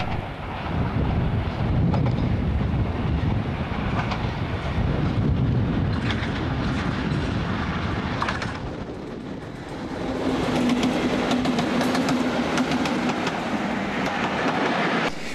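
Double-headed Class 37 diesel locomotives with a Class 40 on the tail, running over Burrs toward Bury on the East Lancashire Railway: a steady, loud rumble and rolling clatter throughout, with wind buffeting the microphone and a brief dip midway.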